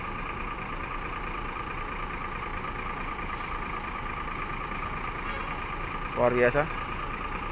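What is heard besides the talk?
Sudiro Tungga Jaya Jetbus 3 Voyager bus engine departing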